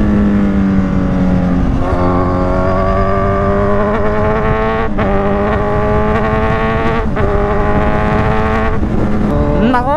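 A Kawasaki Z1000 motorcycle engine revs and pulls along a curvy mountain road near the Tala viewdeck in Bataan, its loud, close drone rising and shifting pitch repeatedly through gear changes.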